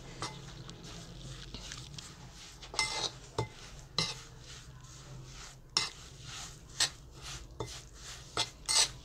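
A spoon mixes ingredients in a bowl for a home remedy, scraping and clinking against the sides in irregular strokes that grow more frequent after the first few seconds, close and fairly quiet.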